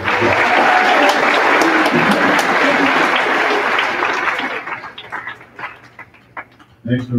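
Applause from the audience at a high school awards ceremony for perfect attendance honorees, steady dense clapping that tapers off into a few scattered claps, then a brief renewed burst at the end.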